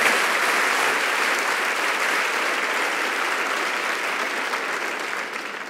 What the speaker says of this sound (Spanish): quiero pedirte un gran aplauso para cada uno de ellos que están viendo esta transmisión